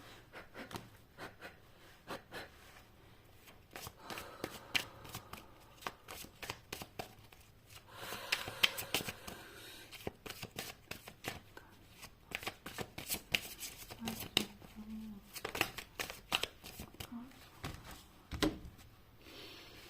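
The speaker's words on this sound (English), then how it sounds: "I'm gonna shuffle and see what's the next card" Tarot cards shuffled close up with rapid, crisp riffling and flicking in uneven bursts, soft and continuous for the whole stretch.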